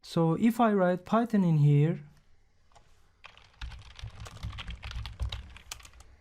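Typing on a computer keyboard while entering a Python command, a run of quick, close key clicks that follows a short stretch of someone talking.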